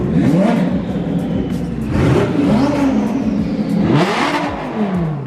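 A powerful supercar engine revs repeatedly at a car show, rising and falling in loud sweeping waves close by, with a whirring mechanical tone throughout.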